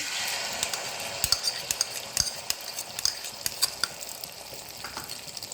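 Beaten egg sizzles in ghee in a pan with a soft, constant frying hiss, punctuated by irregular sharp clinks and scrapes of a utensil against the pan.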